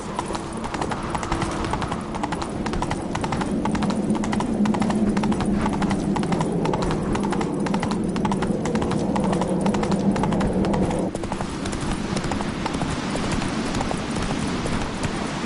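Roach, a horse in The Witcher 3 on PS5, clip-clops along in a steady galloping rhythm of hoofbeats, loud and continuous, easing slightly toward the end.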